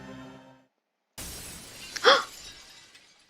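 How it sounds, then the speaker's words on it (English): A foil chandelier crashes down in a video game scene, a sudden loud impact followed by a bright burst of shattering glass, alone after a short pause. "as the foil chandelier came crashing down on Missy and Forte"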